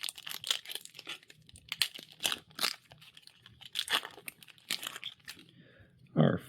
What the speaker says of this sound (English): today we're cracking open Wilds of Eldraine